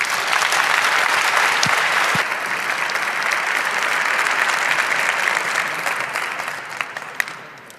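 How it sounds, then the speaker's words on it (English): A large audience at a conference talk on Intel ME myths and reality claps steadily for several seconds, the sound dense and even before tapering off with a few last claps. "please welcome them with a big applause"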